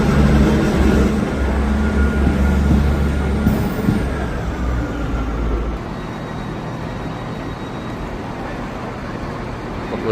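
A train pulls out of Leeds station with a loud, heavy low rumble that drops away about halfway through, leaving steady station and rail noise.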